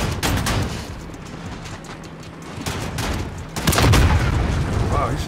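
Gunfire and booming blasts in the Call of Duty: Modern Warfare video game, a series of close, sharp shots with a heavier burst near the end, mixed with players talking.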